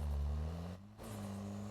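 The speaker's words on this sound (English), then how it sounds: "You can hear the turbo pretty much spool up" Engine and turbo of a restored UAZ 2206 Country Van under way, a steady low droning hum that dips briefly during a gear change, then resumes and rises again, fairly close with no talking.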